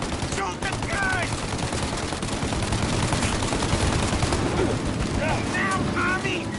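Machine gun fire in the Mafia video game rattles in dense continuous bursts, loud and near, as shouted voices cut in briefly over the shooting.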